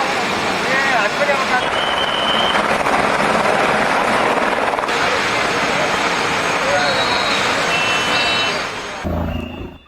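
A rescue helicopter flies over a flood-stricken area of Nepal, its loud, close rotor roar sustained and dense for most of the stretch before cutting off abruptly near the end.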